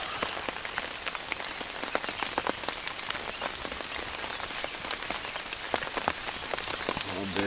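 Steady rain pattering and drumming on surfaces outdoors, dense and continuous with scattered louder drops, no voices.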